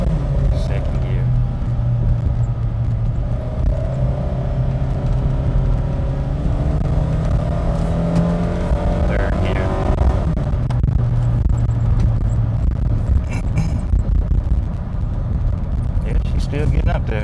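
A 2006 Nissan Frontier XE King Cab pulls hard in second gear, its engine note climbing steadily in a loud, close rumble that drops away near the midpoint, with road noise filling in after.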